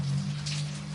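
Steady rain falls as a continuous hiss over a low, constant hum, with no voices heard during the short stretch.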